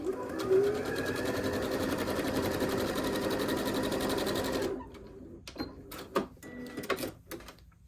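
Sewing machine stitching a quilt block seam a quarter inch from the edge, a steady close whirring run for about five seconds, then stopping into a few scattered clicks and handling taps.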